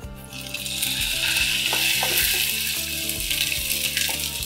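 Curry leaves hit hot oil after roasted chickpeas, producing a loud, continuous sizzle and crackle with occasional scraping stirs, close up and without speech.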